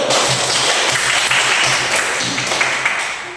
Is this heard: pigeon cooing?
no